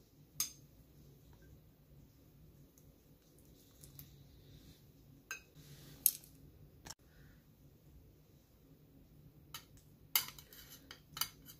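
Cooked asparagus being arranged on a serving dish for hot and spicy salmon, with faint, sparse clinks of utensils against the plate scattered over a quiet room background.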